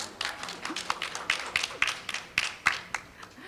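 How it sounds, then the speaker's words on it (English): Scattered hand claps from a small audience at a women leaders networking roundtable session, sparse and uneven rather than a full ovation, a handful of sharp individual claps standing out over a thin crowd patter. "A round of applause for the men here."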